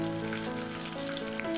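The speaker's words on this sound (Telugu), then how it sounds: "ఆ తర్వాత కరివేపాకు, కొత్తిమీర కూడా వేసి వేయించండి." Dry red chilies, garlic, curry leaves and coriander frying in hot oil as a tempering for Chettinad tomato chutney, giving a continuous, close, crackling sizzle with a steady tone running underneath.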